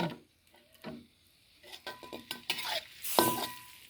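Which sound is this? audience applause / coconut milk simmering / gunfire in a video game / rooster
coconut milk simmering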